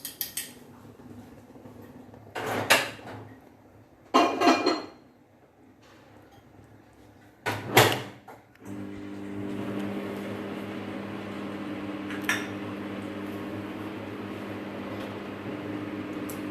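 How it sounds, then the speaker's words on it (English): A few clattering bursts of handling, then a microwave oven's steady low mechanical hum settles in and runs continuously, with one faint click partway through. "Now put it back in the microwave for again 30 seconds."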